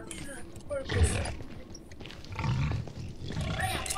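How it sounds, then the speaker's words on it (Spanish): Pigs grunt and snort in a Minecraft-style video game, a few short grunts standing out over faint background game sounds and low voices. "¡Mira, puercos!"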